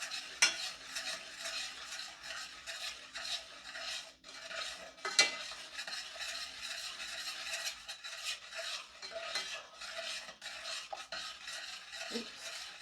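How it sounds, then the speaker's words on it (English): Dough for snowball cookies being stirred with evaporated milk in a bowl, a soft, steady scraping and swishing of a utensil against the bowl with occasional sharper clinks, close and continuous with no talk. "Continue mixing."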